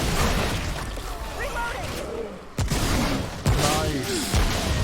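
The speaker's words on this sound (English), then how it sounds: "our shotguns are making short work of this dude." Shotguns firing in an Xbox video game, with sharp blasts cutting through constant talking and game noise, two loud reports standing out near the middle and later.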